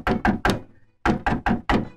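Someone knocks firmly on a door, three solid thumps, a short pause, then four more in the same steady rhythm, close and loud with nothing else audible.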